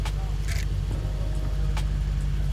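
Luxury carbon-bodied sports car engine idling in a Dubai showroom, a steady low rumble at moderate level beneath brief voices.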